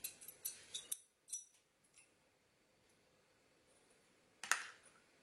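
Scissors snip thread for a bow on a scrapbooking project, a few quick close metallic clicks and cuts at the start, a quiet gap, then one more crisp snip near the end.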